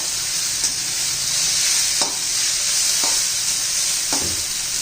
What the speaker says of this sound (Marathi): आता कोथिंबीर घालून घेऊया ती पण चांगली एक दहा भर परतून घेऊ